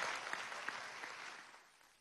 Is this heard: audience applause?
yes